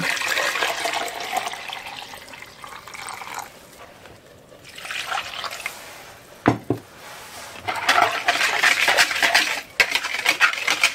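Broth pours into a pot of creamy tomato soup in a fairly loud, close liquid splash and trickle. The pouring swells and eases, and there is a brief clink of metal or dishes partway through.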